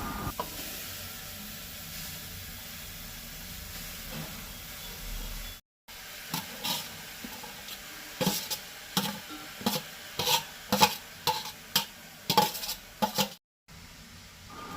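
Chopped knol-khol (navalkol) dropped into a pan on a gas stove for a Goan-style bhaji, with a steady frying hiss and a run of sharp, rhythmic scraping and clinking stirring strokes, close and fairly loud.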